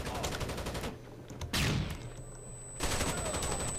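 Automatic gunfire in the video game Rainbow Six Vegas 2, dense loud bursts of rapid shots broken by short pauses, with no talk over it.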